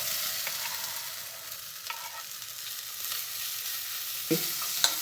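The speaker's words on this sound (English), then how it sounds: "2-3 bay leaves and then push in the" Cabbage with bay leaves and peppercorns sautés in a pan, giving a steady soft sizzle with a few sharper stirring clicks toward the end.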